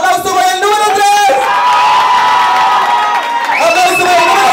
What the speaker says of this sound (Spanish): ¡Aplauso por el número 3!